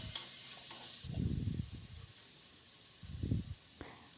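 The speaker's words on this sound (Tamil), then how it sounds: "வதங்கினதுக்கு பிறகு வெட்டி வச்ச லீக்ஸையும் சேர்த்துக்கோங்க" Chopped leeks sauté in a pan for an Indian-style macaroni pasta, a faint hiss and sizzle broken by two low, rustling bursts of stirring.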